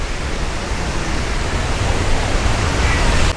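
Steady, dense rush of water splashing at a fountain in Muradiye, a broad hiss filling the whole clip at close range, with faint voices barely present.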